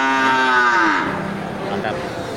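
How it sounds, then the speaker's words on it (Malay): A jumbo local beef cow at an animal market in Geulumpang Payong lets out a long, loud, close moo that falls in pitch, followed by a softer low trailing call against faint market background noise. "ini langsung terlihat di depan kita ini satu ekor sapi jumbo ya"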